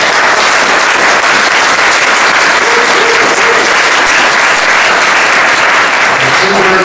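An audience at a curator's talk at the California Historical Society applauds, a dense, sustained wash of clapping that stays strong throughout, with a few faint voices under it.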